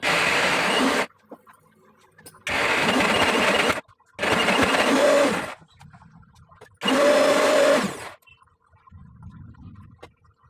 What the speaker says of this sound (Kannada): ಸ್ವಲ್ಪ ನೀರನ್ನು ಹಾಕ್ಕೊಂಡ್ಬಿಟ್ಟು ಮಿಕ್ಸರ್ ಜಾರಿಗೆ ರುಬ್ಕೊತಾ ಇದ್ದೀನಿ